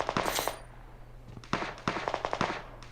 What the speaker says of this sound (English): there's been non-stop gunfire here